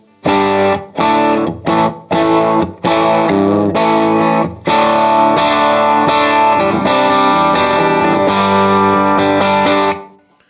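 Electric guitar played through a JHS Clover boost pedal pushing the amp into distortion: loud, gritty chords, first chopped into short separated stabs, then held and ringing out for several seconds before stopping.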